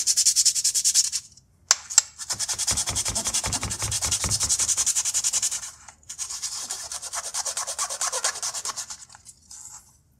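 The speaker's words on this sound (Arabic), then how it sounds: "طبعا هصنفر الناحيتين" Two wooden pieces are hand-sanded one after the other, making steady back-and-forth scratchy strokes in long runs. Brief pauses and a couple of knocks come between them, and the sound is close, moderate and has no speech.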